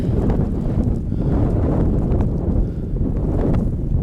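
Strong wind buffets the microphone in steady gusts on a 365-metre hillside in the Kilpatrick Hills, Scotland, with rain, a loud, rough rushing sound with no voices.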